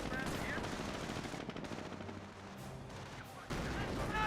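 Rapid bursts of machine-gun and rifle fire from Company of Heroes infantry units rattle through a World War II battle, near and sustained, with a brief pause before the shooting resumes loudly.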